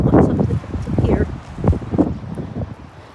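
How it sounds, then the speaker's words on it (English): Strong gusting wind buffets the microphone in an open cemetery, a loud continuous low roar with rustling surges, and a person talks briefly over it. "It is very windy here today."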